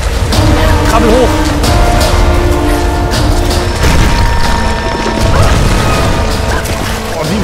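In the game Tomb Raider Definitive Edition, a boulder crashes with heavy, continuous rumbling and smashing debris, loud and dense throughout, with a brief voice partway through.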